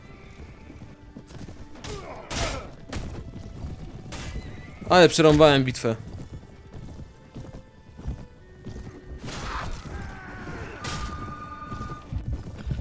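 Horses neigh and gallop amid the clash of a medieval battle in Mount & Blade Warband, with a loud whinny standing out in the middle and hoof clatter throughout, while someone talks over the game sounds.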